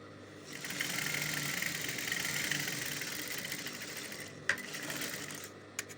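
A sewing machine hems an ankara fabric sleeve with a steady, close mechanical whir that runs for several seconds, broken by a couple of brief clicks near the end.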